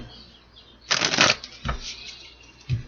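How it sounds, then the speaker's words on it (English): Tarot cards are shuffled close up in a few quick riffling bursts, one longer flurry followed by two short slaps, with faint background sound between. "One more shuffle."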